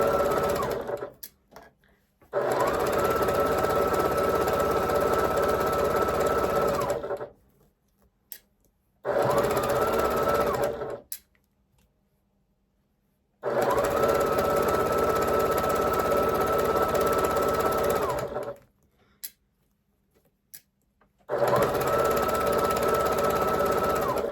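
A sewing machine stitches a quilt in long, steady runs of loud motor whir, broken by short pauses between seams, with no talk over it.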